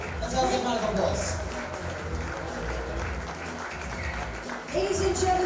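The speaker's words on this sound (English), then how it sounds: "Let's have a big round of applause." Applause from a crowd at the India Nightlife Convention & Awards 2017 with a voice talking over it, the clapping steady and fairly dense throughout.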